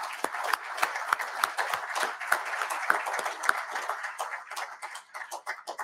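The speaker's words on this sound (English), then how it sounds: "give a round of applause to all the Vietnam veterans in the audience today" A crowd at an Army aviation event applauds Vietnam veterans in the audience, steady clapping from many hands filling the hall for several seconds without talk.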